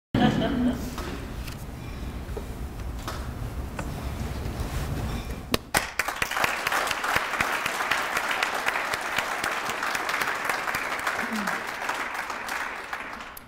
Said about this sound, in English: We rehearsed this applause.